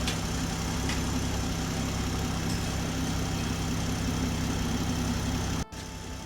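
A Toyota GR Supra engine idles steadily at close range, a continuous low rumble that holds for about five and a half seconds before cutting off abruptly as the engine is switched off, leaving quieter background.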